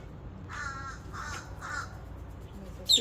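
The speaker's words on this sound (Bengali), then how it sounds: "একটা বড় কাকেও দেখা যাচ্ছে বিভিন্ন টাইপের পাখি" Crows cawing in front of a house, three distinct harsh caws spaced about half a second apart at moderate distance, followed by a brief sharper call at the end over quiet background noise.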